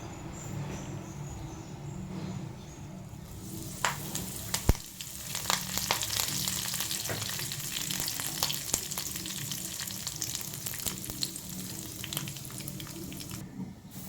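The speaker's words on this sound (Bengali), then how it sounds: "এখানে আমি সর্ষে ফোড়ন দিয়ে দিলাম সর্ষে দিয়ে দিলাম ফোড়নের জন্য" Mustard seeds tempering in hot oil, a soft close crackle and sizzle with scattered sharp pops and spits that grow busier after a few seconds, fairly quiet overall.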